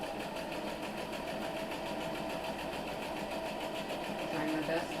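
A sewing machine stitching a pinwheel quilt block along a quarter-inch guide line, a continuous close, even mechanical whir with a rapid regular pulse, partly under a speaking voice.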